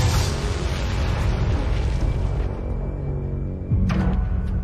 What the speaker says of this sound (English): The impact of the explosion was incredible.